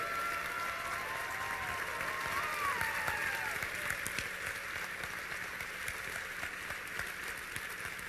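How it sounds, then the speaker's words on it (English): Audience applause for volunteers at an opening ceremony, a steady wash of clapping sustained for about eight seconds at moderate level, with some crowd murmur and faint voices underneath. "Let's give them a warm round of applause."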